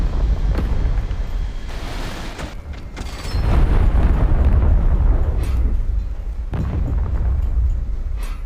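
A tank shell strikes a ZTZ88A main battle tank in War Thunder Mobile, a heavy booming impact that swells into a sustained roar of rumbling explosions and wind-like noise for several seconds.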